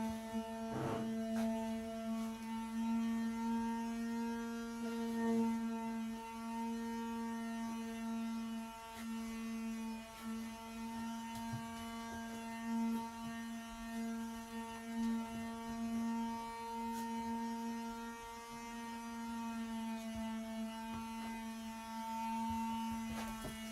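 A steady electric sander hum runs throughout, a strong buzzing drone with rich harmonics being used to clean granite countertops, nearly constant in loudness with small fluctuations and no talking.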